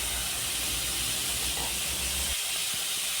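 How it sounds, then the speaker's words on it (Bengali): Large pieces of raw plantain fry in oil left over from frying potatoes, giving a continuous hissing sizzle that drops off and turns quieter near the end, with no voices. "আলু ভাজার ওই তেলের মধ্যে কাঁচা কলাগুলোও ভেজে নিচ্ছি।"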